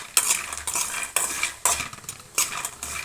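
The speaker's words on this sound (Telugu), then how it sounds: "చిన్న మంట మీద కొంచెం మీడియం ఫ్లేమ్లో పెట్టుకొని వేపుకోవాలండి పల్లీలు" Peanuts dry-roasted over a medium flame are stirred in a metal pan, giving repeated scraping, rattling strokes in a steady rhythm, close and clear with no talk.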